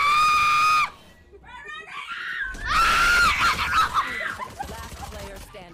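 Shrill, loud screams from a woman during a tense round of a tactical shooter game, one long scream, then a burst of excited shrieking and yelling mixed with laughter.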